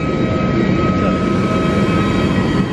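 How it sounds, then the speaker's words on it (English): Steady roar of an airplane engine at an airport boarding gate for a flight to Bhubaneswar, continuous and fairly loud throughout with a broad low rumble and a faint high whine, no talk. "That's our plane to Bhubaneswar."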